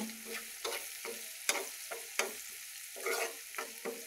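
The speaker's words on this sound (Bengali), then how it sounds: "দেখো পুরা ভাজা হয়ে গেছে চিংড়ি মাছগুলো ভালোভাবে" Shrimp sizzling in a pan with turmeric and chili while a utensil scrapes and stirs in irregular strokes, close and fairly quiet, with no voices.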